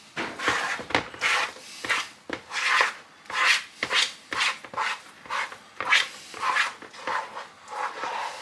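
A spatula scrapes food stuck to the side of a pan or bowl while a make-ahead breakfast is cooked, giving a quick series of rough rasping strokes, close and fairly quiet.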